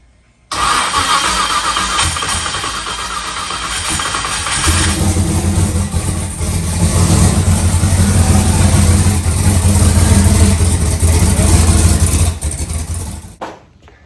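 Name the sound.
rebuilt turbo engine first start and revving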